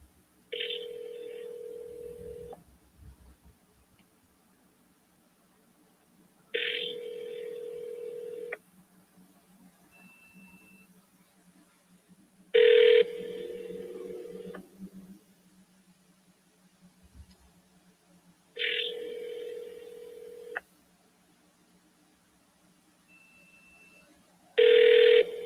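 A landline telephone rings out on a call, heard as repeated ring-back bursts of about two seconds each, spaced roughly six seconds apart, clear and fairly loud with quiet gaps between.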